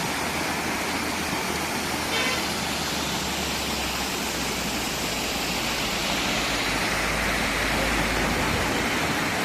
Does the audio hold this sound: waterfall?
yes